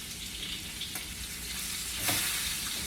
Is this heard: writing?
no